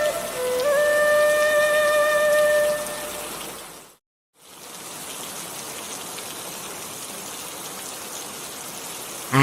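Cartoon rain pours down as a steady, loud hiss, with a few held musical tones at first and a brief drop to silence midway before the downpour resumes.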